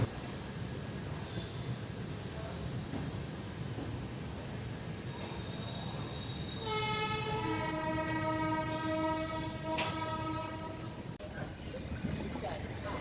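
Triveni Express 15076 rumbles steadily into Prayagraj Junction, and a loud, sustained horn blast sounds partway through, with no talking.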